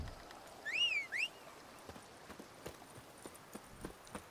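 Roach, the horse from The Witcher 3, with faint hooves clopping in a steady rhythm that grows closer, preceded by a short whistle-like call.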